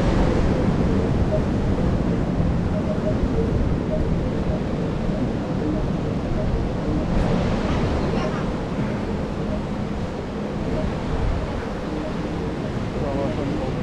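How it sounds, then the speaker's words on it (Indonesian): Ocean surf washes continuously onto the beach at Tanah Lot, Bali, a broad rushing roar mixed with wind buffeting the microphone, steady and fairly loud throughout. "Dan ini adalah area pantai."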